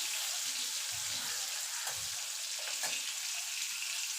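Prawns fry lightly in oil in a pan, giving a steady close sizzle with a few low thumps of stirring, no voices.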